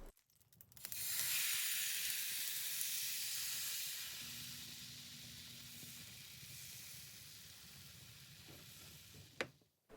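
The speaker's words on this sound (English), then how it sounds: "Melt some unsalted butter at medium heat." Unsalted butter melts over medium heat in a pan, giving a soft, steady hiss and sizzle that eases slightly as it goes on, with a small clink near the end.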